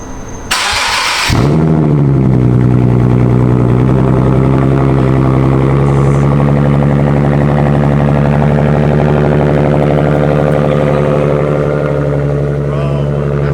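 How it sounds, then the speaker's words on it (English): A Nissan 370Z with a Tomei Expreme Ti titanium exhaust fires up from cold after a short crank, then settles into a loud, steady, raspy high idle right up close, with audible exhaust leaks. "Let's get that first start going. Hear all those exhaust leaks that we've created."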